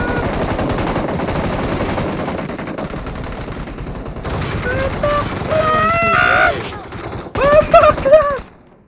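Rapid machine gun fire in a zombie mode video game rattles steadily for most of the stretch, with excited voices talking and shouting over it near the end.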